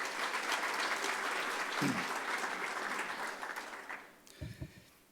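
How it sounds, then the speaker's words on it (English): A crowd at a city's State of the City address applauds steadily for several seconds, then the clapping thins out and fades, leaving a few scattered claps at the end. "So how about another round of applause for our guys?"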